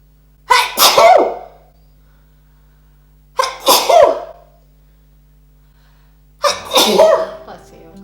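Three sharp, close sneezes come about three seconds apart, each a quick intake followed by a loud burst, with a quiet background between them.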